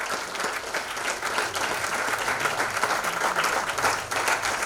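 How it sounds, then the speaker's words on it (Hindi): Loud, steady applause from an audience at a ceremony for nursing and paramedical institutes, greeting the launch of a website; dense clapping holds evenly throughout with no pauses. "आप सबकी शुभकामना रूपी जोरदार तालियों के साथ"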